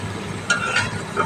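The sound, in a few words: small fish curry bubbling on the stove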